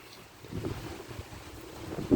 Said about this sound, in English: Let's see if I can block the wind here.